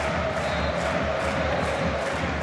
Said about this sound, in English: Eddie Howe's Barmy Army is the cry from the crowd